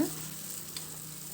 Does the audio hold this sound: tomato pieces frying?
yes